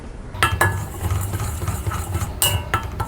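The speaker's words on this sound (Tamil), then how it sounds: "இப்போ நம்ம வேறு பாத்திரத்தில் மாற்றிட்டு அடுத்து ராகி மாவை நல்லா வறுத்துக்கலாம்." Ragi flour dry-roasting in a pan, stirred with a spoon, giving a soft rustling hiss with sharp clanks and scrapes of metal at the start and again near the end.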